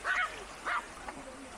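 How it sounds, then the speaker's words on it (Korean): Small Yorkshire terriers, a mother and her pup, barking together at a mountain stream outing: a few short, sharp yips in quick bursts, moderately close over quiet background noise. "모자가 함께 짖는다."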